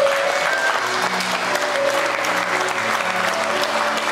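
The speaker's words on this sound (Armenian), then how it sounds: "Եկեք այս պահին շատ բարձր ծափարենք սահմանում կանգնած զինվորի համար" Wedding guests clap loudly and steadily for a soldier standing at the border, a dense, sustained burst of applause from a large crowd with a faint tonal hum underneath.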